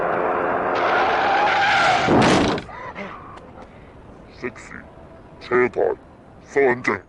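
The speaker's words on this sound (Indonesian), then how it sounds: "Sing melihat sebuah mobil yang sedang melaju kencang." A car in a film scene speeds past with a loud engine roar and tire skid that cuts off abruptly, followed by several short bursts of people talking.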